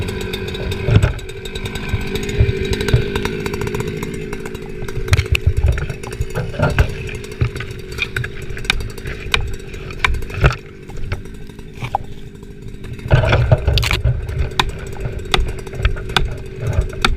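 Husqvarna chainsaw cutting into a hazardous tree, buzzing steadily with repeated surges in revs as the blade bites into the wood, loud and close.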